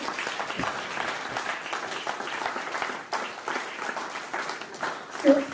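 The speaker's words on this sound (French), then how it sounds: "j'aimerais vraiment que vous l'applaudissiez du plus profond de votre cœur" Audience applause fills a conference hall at a talk on water, a steady wash of many hands clapping throughout with a slight dip partway and a brief rise near the end.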